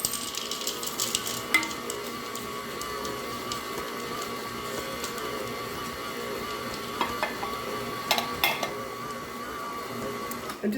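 Cranberry bliss bar batter with white chocolate chips and dried cranberries being stirred in a bowl, a steady soft scraping and churning at close range that carries on without pause.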